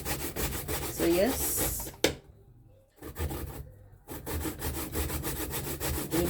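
Sweet potato rubbed on a hand grater for pudding, making close, rhythmic rasping strokes that pause for about a second midway, then resume steadily, with a brief spoken remark.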